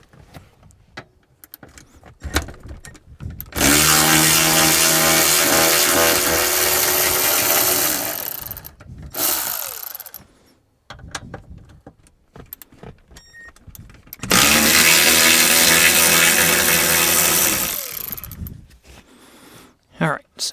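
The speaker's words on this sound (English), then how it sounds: "let me grab the ratchet and we'll pull this guy off" A ratchet works on 10mm hinge bolts holding a Chevy/GMC truck rear 60/40 seat bottom, with two long loud bursts of rapid mechanical whirring separated by pauses and scattered clicks and handling clatter.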